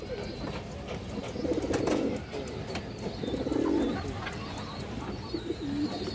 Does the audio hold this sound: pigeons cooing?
yes